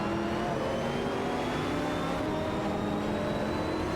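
Race car engines in an AI racing game roar steadily, with rising and falling harmonic whines as cars accelerate past. The sound is loud and continuous throughout, with no talking.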